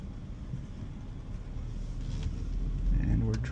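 Interior road noise of a 2006 Mercedes C230 driving through Miami, a steady low rumble of engine and tires that swells slightly toward the end, with faint background voices.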